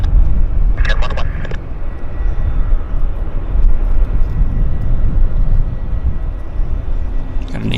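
Airbus A321 taxiing out at Vancouver airport, a distant, steady roaring rumble of jet engines throughout, with radio chatter and talk over it.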